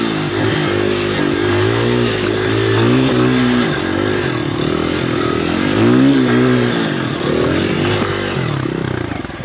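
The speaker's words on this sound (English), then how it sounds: "We're riding on the XR100 Honda" A 2003 Honda XR100 dirt bike engine drones loud and near while riding an enduro trail, its pitch rising and falling as the throttle is worked through the terrain, with no talk.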